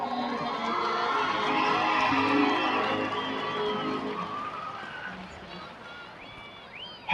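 Large crowd at a high school homecoming ceremony, held during a Coppell football game, cheers and claps for the homecoming nominees. The roar is loud and sustained, with some shouting, and eases off toward the end.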